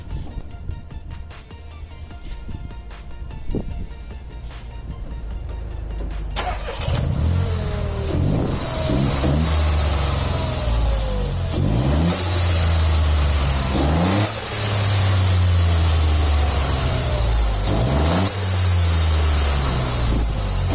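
A Dacia Sandero fitted with a blow-off valve starts up after about six seconds, then revs repeatedly, each rise ending in a sharp whooshing vent from the valve; close, loud and continuous with no talking.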